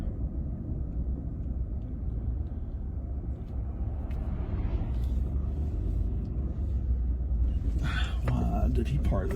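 A car rolls into a home driveway with a steady low engine rumble close by, then a brief clatter of movement near the end as it comes to a stop.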